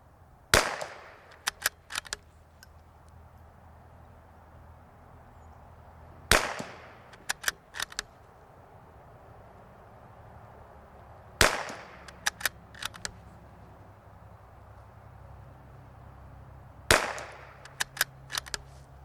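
Ruger Precision Rifle firing a group at a range, four separate loud close shots spaced several seconds apart, each trailed by a quick series of sharp clicks and clatters.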